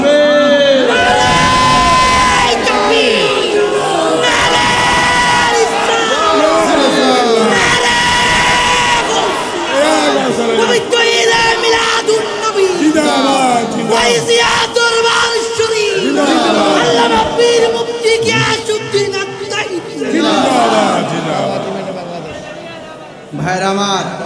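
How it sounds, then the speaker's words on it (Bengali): A large crowd at a religious gathering chants a slogan in loud, rhythmic unison, answering a leading voice in repeated call-and-response bursts that swell and fade across the span, with a short quiet break near the end. "একটা স্লোগান হবে"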